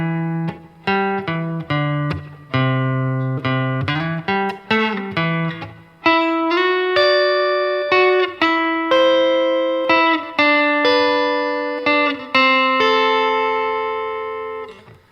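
Electric guitar slowly plays the opening line of a song, with picked double-stops and single notes on the high strings. Each note is clearly separated and rings steadily without any talking.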